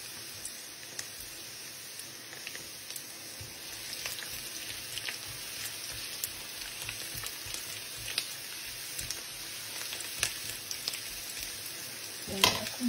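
Garlic frying in a pan while being stirred for a water spinach and bean sprout stir-fry, a steady close sizzle and crackle with light scraping throughout, no voices.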